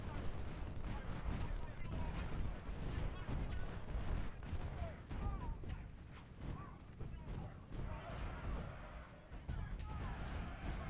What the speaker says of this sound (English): Every minute that my artillery is firing is good for me.